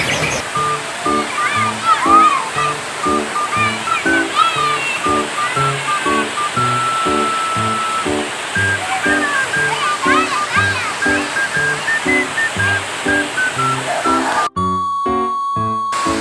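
A strong waterfall roars steadily while a small child bathes and swims in it, splashing close by as people talk and a voice is heard over the rushing water.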